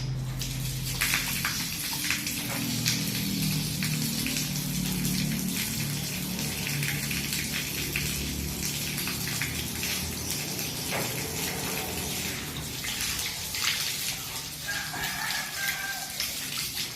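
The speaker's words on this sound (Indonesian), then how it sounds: "Cuci tangan 6 langkah." Hands are washed under a running tap using the six-step handwash, with water gushing steadily and splashing close by for the whole stretch.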